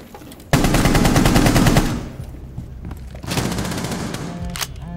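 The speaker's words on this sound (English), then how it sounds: "Shooting, they're coming in." Rapid automatic gunfire from a Rainbow Six Siege match, a dense loud burst lasting over a second, then a second shorter volley after a pause, close and punchy with no talk over it.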